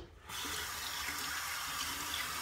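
Tap water runs into a sink to dampen a cotton ball for makeup removal, a steady close splashing stream that starts abruptly after a brief quiet moment and continues alone.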